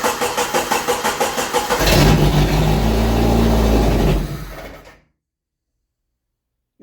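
An abandoned 1988 Jeep YJ cranks with a rapid, rhythmic starter chug for about two seconds, then catches and roars into a rough, loud run before shutting off abruptly into silence.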